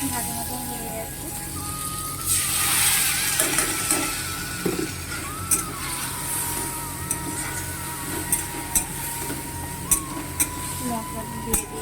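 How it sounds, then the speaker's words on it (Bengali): Soya chunks with spices frying in a pan and being stirred, a steady sizzle under scattered scraping clicks of a spoon against the pan, close by, with speech at moments. "মশলা দিয়ে দিয়েছি, নেড়ে নেবো।"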